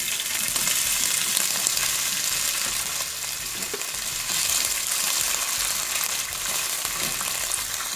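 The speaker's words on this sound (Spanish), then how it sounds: "Empezamos a cocinar, ya tenemos los ingredientes listos en una cacerola con aceite. Empezamos a freír el tocino." Bacon sizzles in oil in a pot at the start of cooking vegetable fried rice, a steady, dense crackle that holds for the whole stretch with no voices.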